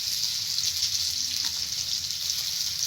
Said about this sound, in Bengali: দিয়ে দেবো গোটা জিরে, দিয়ে দিচ্ছি পেঁয়াজ কুচি।